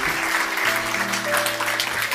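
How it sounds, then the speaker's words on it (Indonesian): A church congregation claps together during a sermon, a dense, even burst of applause lasting a couple of seconds with a low sustained instrumental tone underneath. "Kita beri tepuk tangan untuk kebenaran ini."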